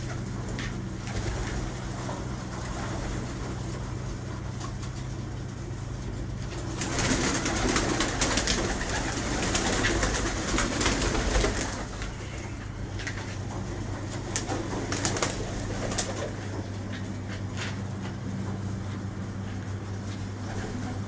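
Pigeons coo steadily nearby in a loft over a constant low background hum, with the cooing growing slightly louder and busier for a few seconds in the middle.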